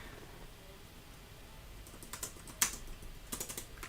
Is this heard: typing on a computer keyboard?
yes